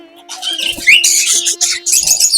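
Budgerigars of various ages squawk and chatter in a dense, bright stream of shrill calls close by, with a steady tonal hum underneath.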